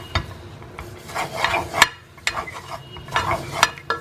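Gram flour roasting in ghee for Mysore pak, stirred with a ladle in a pan: repeated scraping and rubbing strokes with soft sizzling underneath, close and moderately loud, and a few sharper metal clinks, with no voices.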